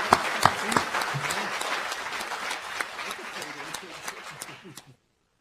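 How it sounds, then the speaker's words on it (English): A round of applause for a student at a university Board of Regents meeting, many hands clapping with distinct sharp claps, gradually thinning before cutting off abruptly near the end. "So if we could give him a round of applause, I'd appreciate that."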